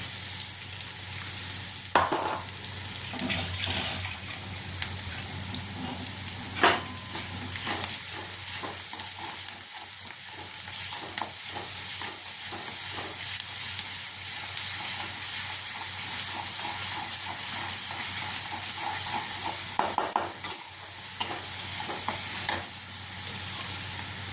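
Cauliflower and potatoes fry in a pan with garlic paste, sizzling steadily up close while a spoon stirs and scrapes now and then, with no talking.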